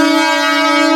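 A train horn sounds as the train pulls into a crowded Mumbai station bound for CST, one loud sustained tonal blast that holds steady throughout.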